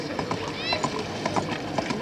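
A horse named Barney gallops round an equestrian obstacle course, hoofbeats thudding in a quick irregular rhythm under a commentator's voice, with a faint whinny-like squeal partway through.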